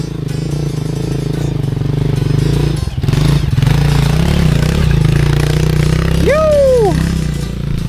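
A 250F dirt bike climbs hills, its engine droning loud and steady, briefly dipping mid-clip before pulling hard again, with a short rising rev near the end.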